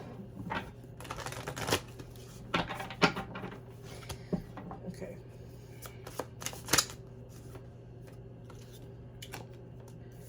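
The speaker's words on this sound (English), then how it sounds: "I'm going to shuffle that as well." Tarot cards riffled and shuffled in a quiet room, with bursts of papery flutter and soft slaps spread across the stretch over a steady low hum; a voice briefly says one word.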